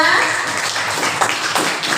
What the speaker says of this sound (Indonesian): kita beri tepuk tangan dulu untuk kita semua